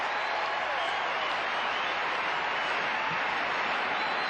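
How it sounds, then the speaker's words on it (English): A crowd at the 1991 World Gymnastics Championships applauds in a standing ovation, a dense, continuous wash of clapping and cheering, loud and sustained throughout, with a commentator's voice faintly over it. "And not often you see this, a standing ovation from the crowd."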